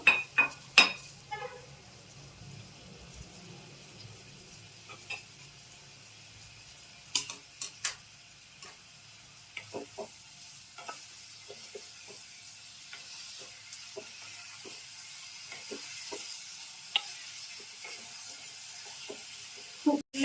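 Duck eggs fry in a pan, a soft steady sizzle under repeated clicking and scraping from a spatula stirring against the pan, the taps coming in scattered bursts, fairly close and moderately quiet.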